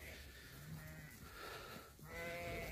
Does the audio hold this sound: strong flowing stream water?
no